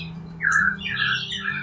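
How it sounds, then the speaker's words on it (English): Birds calling near a backyard workshop, with a few loud, close, squawking chirps rising and falling over a low steady hum. "the chirping birds that inspire his work"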